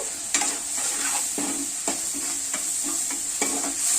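Spices and ginger garlic paste frying in a pan, with a continuous close sizzle broken by repeated scraping stirs about every half second, and no voices.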